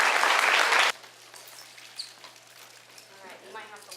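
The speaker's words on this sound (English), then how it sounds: "Let's give them a round of applause." A short, loud burst of clapping for D.A.R.E. program graduates at a 2015 graduation ceremony cuts off abruptly after about a second, leaving faint room noise.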